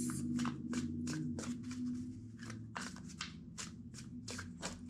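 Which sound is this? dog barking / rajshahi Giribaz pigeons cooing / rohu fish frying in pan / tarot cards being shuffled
tarot cards being shuffled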